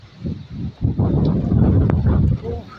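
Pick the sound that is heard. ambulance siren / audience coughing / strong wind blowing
strong wind blowing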